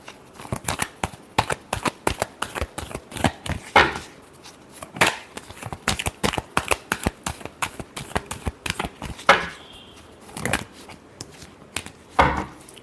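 Tarot cards being shuffled by hand, a rapid series of sharp riffling snaps and slaps in irregular bursts, close up and alone with no talk.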